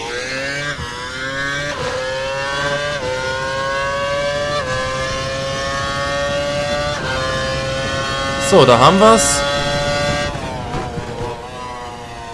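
A Formula One car engine in the F1 2012 racing game screams at high revs on a lean fuel mixture, with steady rising and falling gear-shift pitch sweeps and a louder burst near the end, under continuous talk.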